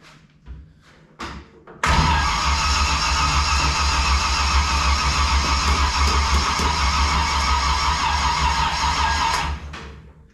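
A 1955 Chevy engine on its first start attempt: a few knocks and thuds, then a loud, steady mechanical roar that holds for about seven seconds before cutting off, with no talking.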